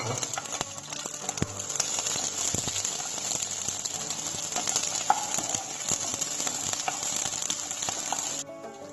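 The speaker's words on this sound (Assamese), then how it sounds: "ইয়াত আমি অনিয়নছ আৰু কেপচিকামখিনি আমি ইয়াত অলপ চটে কৰি ল'ম।" Onions and capsicum sauté in hot oil in a pan with a constant, lively sizzle, punctuated by sharp clicks and scrapes of stirring until it cuts off near the end.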